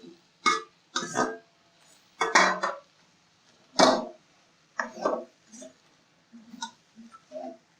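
Chicken masala stirred in a pot for a home-cooked chicken vadakal fry: intermittent scrapes and metallic clanks of a spoon against the vessel, spaced out and close, with quiet gaps between strokes.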